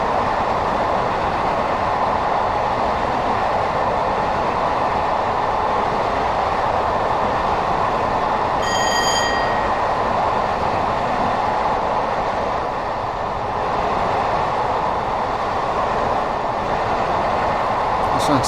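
Train running on the 1066 Line from Tonbridge to Hastings in Train Sim 2020, a steady loud rumbling roar of wheels and motors throughout, with a brief tonal whine midway.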